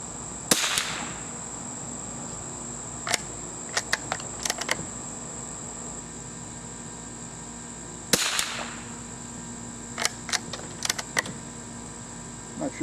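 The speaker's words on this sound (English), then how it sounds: "shoot 10 shots of these 2 different types of ammo" Two sharp gunshots from a Winchester Model 52 .22 rifle, about eight seconds apart, each a crisp crack at close range followed by a short tail, with light handling clicks and rustles between them.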